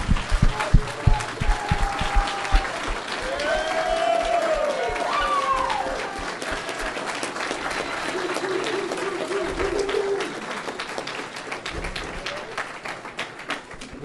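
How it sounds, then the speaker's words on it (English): Audience at a debate applauds the speakers, a sustained crowd clapping with some cheering and murmured chatter, moderately loud and steady before tapering off near the end. "please join me in giving a round of applause for our speakers"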